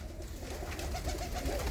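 Grey desi pigeons coo softly nearby in a short burst of low, rolling calls against faint background noise.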